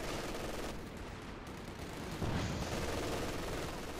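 Dense, continuous machine-gun fire pinning down infantry in Company of Heroes 2, a loud unbroken roar of rapid gunshots that swells slightly louder midway, with no talk.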